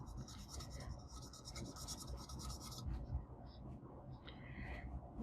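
Foil pieces being burnished onto a glitter tumbler by hand, a continuous close, quiet rubbing and scraping with a few brief crinkles toward the end.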